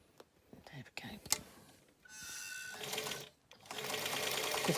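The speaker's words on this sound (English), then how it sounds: "So straight stitch again." A sewing machine straight-stitches a shaped fabric face mask in short runs, first after soft handling noises, then a longer steady buzz toward the end, with quiet, whispery talk early on.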